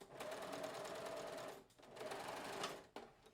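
Sewing machine stitching lace trim onto the edge of a garment cuff, a fast steady whirring run that pauses briefly, restarts for a second burst, then stops with a short final stitch.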